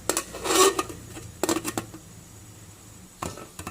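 Metallic clanks of a lid set onto a pot of sinigang with milkfish, a few sharp clatters spaced apart with quiet between.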